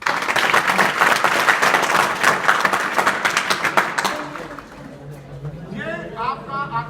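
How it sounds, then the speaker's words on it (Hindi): Classroom of students at an intercollegiate school bursting into loud, sustained applause, many hands clapping densely for several seconds before fading out as a voice begins speaking. "ताली तो बजाओ।"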